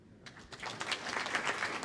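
Applause breaks out at a sports wall of fame ceremony, starting abruptly after a brief quiet moment and quickly swelling into a full, sustained clatter of many hands.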